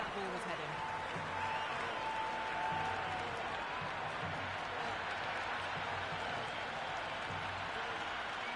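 A cricket crowd in the video game Cricket 26 applauds and cheers as a dense, steady roar of clapping that fills the whole stretch at an even level, with a faint tone early on.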